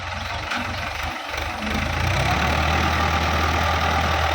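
A Ford T3 tractor engine idles steadily up close, a low, even rumble that grows slightly louder and fuller partway through, with no speech over it.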